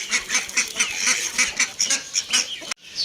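Ducks quack and honk in a rapid, nasal chorus of repeated calls, close and fairly loud, ending abruptly.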